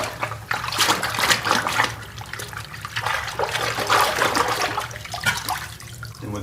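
Water rinses a brass wind instrument during cleaning, a continuous rushing, splashing stream with gurgling surges that swell and ease, close and fairly loud.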